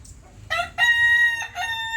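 Large roosters, an IG cross with Shamo blood kept alongside native and Asil birds, crow loudly and close by in two drawn-out calls, the second breaking into a rising tail.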